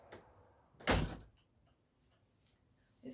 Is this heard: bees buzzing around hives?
no